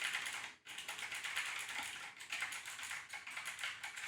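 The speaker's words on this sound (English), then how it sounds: "what does it sound like with the keyboard behind the mic?" Continuous rapid typing on a computer keyboard placed behind a streaming microphone, a dense patter of key clicks with one brief pause, heard slightly distant and quiet.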